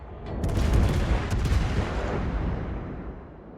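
Naval gunfire from the Des Moines heavy cruiser in World of Warships, a dense rolling volley of booms that swells early and rumbles steadily, loud and close, with no talk.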